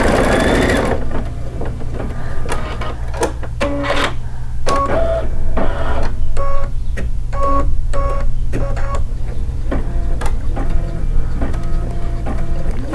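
A computerized embroidery machine stitches steadily in a fast mechanical rhythm, with repeated clicking and whirring bursts over a constant low motor hum, close and loud throughout.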